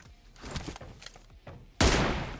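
Gunfire in the mobile game PUBG Mobile crackles in scattered shots and short bursts, ending in a sudden loud, sustained blast.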